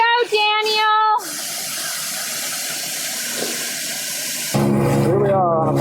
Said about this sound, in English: Here we are on a boat crossing the upper part of the Iguazu River.